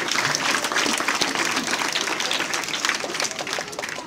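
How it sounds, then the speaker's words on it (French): A crowd at a primary school library inauguration breaks into loud, continuous applause, dense clapping filling the whole stretch at an even level. "Sous vos acclamations, s'il vous plaît."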